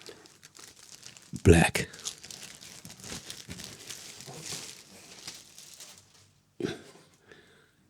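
Plastic packaging crinkling and tearing open around a YouTube Silver Play Button, with one loud crackling rip and a later shorter burst, as a person talks casually throughout.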